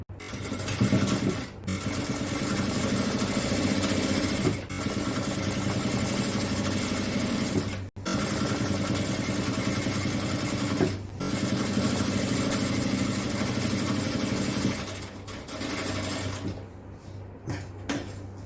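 An electric sewing machine runs in long, steady stitching bursts on folded fabric hems for puff shorts, stopping briefly between runs, with a fast mechanical whir close by.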